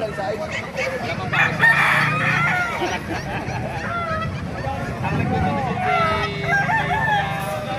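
Several gamefowl roosters of White Kelso, Talisay and Lemon Sweater breeds crow repeatedly, some close and loud, others overlapping farther off, with honking and clucking from other fowl mixed in and faint voices nearby.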